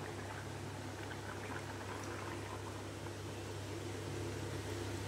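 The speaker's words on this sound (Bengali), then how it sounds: "দুধটা দিয়ে ভালো মতো ফুটবে।" Papaya and potato shukto simmers in a pot after milk has been added, giving a steady, even bubbling hiss that stays at one level from start to finish with no voices.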